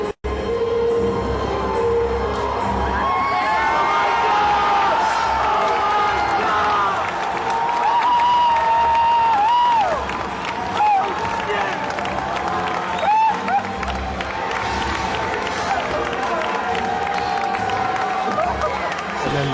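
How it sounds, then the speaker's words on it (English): A large crowd at the E3 2004 Nintendo GameCube reveal cheers and applauds in a recording, a loud, sustained roar of clapping and shouts with music playing and swelling throughout. "listen to the crowd's reaction"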